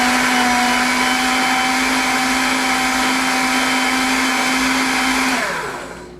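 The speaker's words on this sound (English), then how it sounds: "Sometimes with food processors, you really have to push the food down and then give it another spin" A food processor spins kefta burger meat in one loud, steady whirring run with a constant motor drone, then winds down and fades out at the end.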